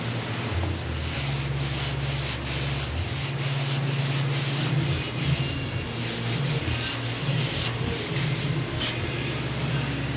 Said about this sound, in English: Let's get the sanding block out and see what that looks like